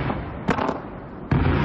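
A colored fireworks wall explodes in a continuous crackling roar, with two sharper bursts standing out about a second apart over the dense, steady blasting.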